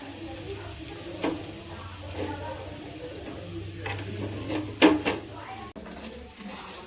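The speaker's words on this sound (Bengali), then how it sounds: "এর মধ্যে আমরা গাজরগুলো ভালো করে ভেজে নেব" Steady sizzling of carrots frying in a pan for rabri, with occasional stirring clatters and a louder scrape near the end; no talking.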